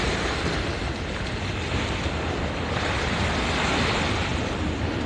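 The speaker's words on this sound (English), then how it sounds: "The beach and the waves." Ocean waves wash onto the beach at Haulover Inlet at sunrise, a steady broadband surf rush with gentle swells in loudness and some wind, continuous and without voices.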